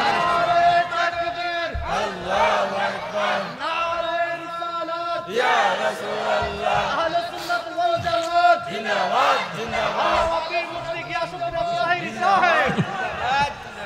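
A crowd at an Islamic waz religious gathering chants a slogan in loud, rhythmic unison, voices rising and falling in repeated phrases, with a leading voice mixed into the chorus.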